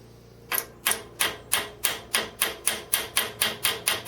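A hammer strikes a hot rivet on the work table of a home-built Gingery milling machine, about a dozen sharp metallic blows in a steady, even rhythm, close and clear with no talking.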